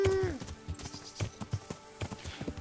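Horse hooves clip-clop through the Kingdom Come video game, a quick uneven run of soft thuds over about two and a half seconds, fairly quiet, with a brief tonal sound at the start.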